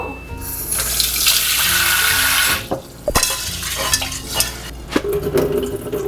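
Water poured into a pot of Japanese rice, a steady loud rushing splash for a few seconds, then stirring and clattering handling sounds afterward.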